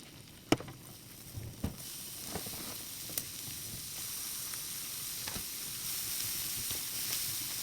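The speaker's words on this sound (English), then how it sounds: "So we'll let the onions saute a little bit here until it caramelizes" Garlic and onion sizzle steadily in oil in a pan, a soft continuous hiss with a few sharp pops and crackles near the start and scattered ticks throughout.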